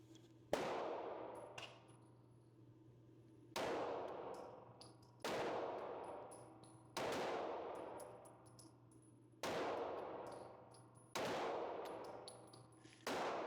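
Rifle gunshots at an outdoor shooting range, a Magpul-equipped rifle firing five loud, sharp reports spaced a couple of seconds apart, each with a long ringing decay and a faint clang of steel between shots over a low steady hum.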